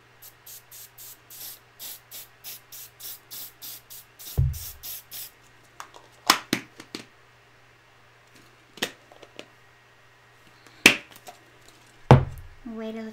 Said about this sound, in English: let me quickly just spray again